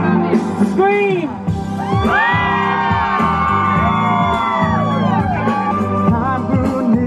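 A concert crowd screams and whoops loudly, with sustained cheering and yelling from many voices, close and dense, while music or a voice rings over the top.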